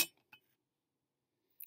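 A blown glass bowl being handled gives a few short, bright clinks close by, then quiet, with a last light tap at the end.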